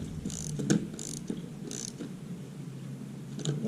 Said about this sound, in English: it's a little hard to tighten down because it's got to go through that nylock, but just keep on tightening it.